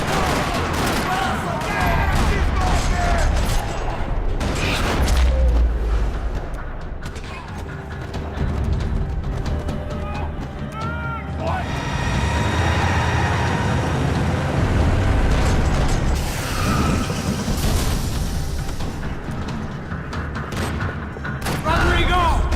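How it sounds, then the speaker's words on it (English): Rattling gunfire fills a parking lot in the video game Max Payne 3, with dense bursts of shots and booms mixed with game sounds and spoken lines throughout. "Another parking lot rattling with gunfire."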